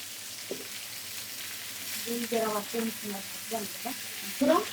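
Pointed gourd pieces, coated in salt and turmeric, sizzle in hot mustard oil in a frying pan, a steady close crackle with brief louder bursts of spitting and stirring.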